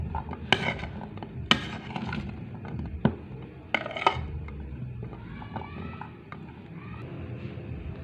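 A spoon stirs American corn salad in a bowl, producing light clinks and scrapes at irregular intervals, close and fairly quiet over low kitchen background noise.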